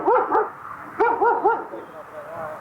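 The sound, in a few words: dog barking on golf course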